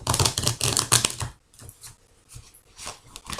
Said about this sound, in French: je remélange, bien sûr, les cartes